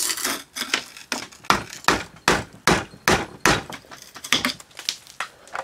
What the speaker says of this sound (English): Hitting that with a hammer.